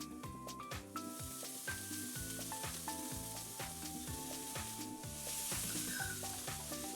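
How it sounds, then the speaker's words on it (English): Ground meat sizzles in a frying pan in a kitchen-themed video game, a steady close frying hiss under a looping musical backdrop of repeated plucked notes. "I put the ground meat I prepared early in the frying pan, and a savory aroma fills the kitchen."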